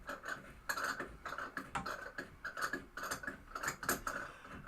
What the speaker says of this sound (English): I'm just chasing all the screws, the threads.